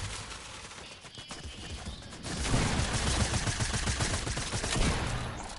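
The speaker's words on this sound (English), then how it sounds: "When we shoot our SMG," SMG gunfire in a video game rattles in a dense, rapid burst that grows louder and thicker partway through, then keeps up as a continuous stream of close shots.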